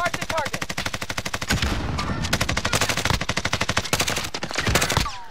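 Rapid automatic gunfire in the shooter game Call of Duty: Modern Warfare, sustained loud bursts of machine-gun fire with short gaps, close and dominant throughout.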